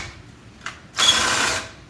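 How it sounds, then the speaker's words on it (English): Power drill cranking a homemade engine leveler tool, a short buzzing whir of about half a second after a brief click, fairly loud and close. "I can plug my drill in with an adapter and"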